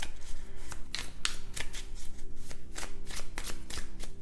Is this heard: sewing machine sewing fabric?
no